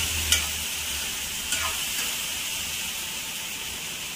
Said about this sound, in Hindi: और इसको एकदम धीमी आंच से पकाएंगे